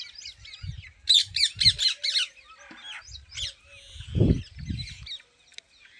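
Birds squawk and honk in a village farm field with a peacock nearby, giving a few loud bursts of harsh calls, a rapid run of squawks and some lower honks between quieter gaps.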